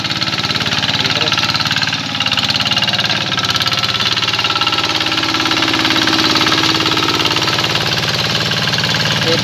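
Tractor engine running while tilling a flooded rice paddy, a loud, continuous low rumble with a rapid knocking pulse, steady and close throughout, with a brief dip near two seconds and faint voices underneath.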